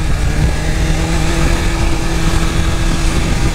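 A BMW S1000RR motorcycle engine is held against its rev limiter, a loud, continuous, buzzing high-rpm roar with a steady pitch and a rough, choppy texture, close and unbroken throughout.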